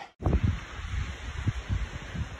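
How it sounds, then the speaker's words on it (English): Gusty wind on the Appalachian Trail buffets the microphone in low, uneven rumbles, with rustling leaves and no voices. "walking is real windy"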